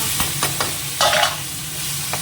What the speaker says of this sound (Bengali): এই যে মাছের মাথাটা ভাজতে দিয়ে দিচ্ছি আর জিরে আর শুকনো লঙ্কা ফোড়নও দিয়ে দিচ্ছি